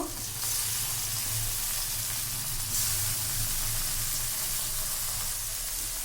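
Tomato and eggplant sizzling in a hot pan for an eggplant bhuna, a steady broadband frying hiss with low bubbling underneath, close and continuous with no voices.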